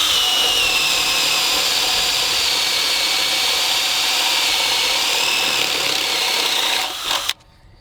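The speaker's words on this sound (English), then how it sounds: "So now we're going to test out the Ryobi 1/2-inch drill driver. And from our set right here, let's grab a 1-inch spade bit." A Ryobi 18V 1/2-inch drill driver fitted with a 1-inch spade bit bores steadily with a loud, close, continuous motor whine and grinding that holds for about seven seconds, then cuts off abruptly.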